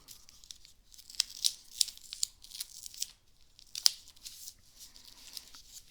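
Paper being folded and creased to make a kite, a series of close, light crinkles and crisp rustles with short pauses between them.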